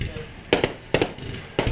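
Fireworks bursting on a Fourth of July night, with three sharp distant-sounding bangs spaced about half a second apart, each a quick double report, over a low murmur of background noise.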